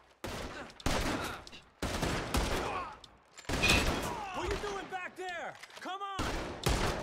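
Gunfire in a shipwreck robbery video game comes in repeated sharp bursts and volleys, with excited voices talking between and over the shots.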